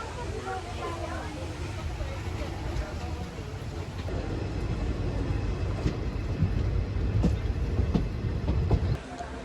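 Poorna Express train rolling on rails after a loco reversal at Londa, heading toward Miraj through misty Castle Rock hill country; a steady close rumble with faint rail clatter runs throughout, with voices intermittently audible over it.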